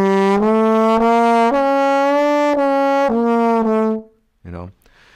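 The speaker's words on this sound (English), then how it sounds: "lot of glissandi that I was making" Tenor trombone played solo with the slide, loud and close: a run of sustained brassy notes that step up and down, with the pitch sliding between some of them, then a brief low sound after a pause.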